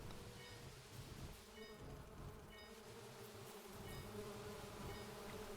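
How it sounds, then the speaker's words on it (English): Bee swarm buzzing in the video game Toy Shire, a steady drone of many insects with faint periodic high chirps layered over it, quiet and continuous. "Periodically the bees will attack Kevin."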